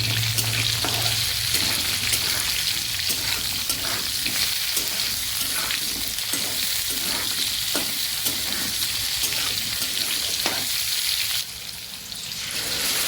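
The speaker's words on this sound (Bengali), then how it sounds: "এবার আমি আলুর সাথে বেগুনটা ভেজে নেব।" Eggplant and potatoes fry in a pan in a steady, loud sizzle, with repeated scraping stirs cutting through the crackle throughout.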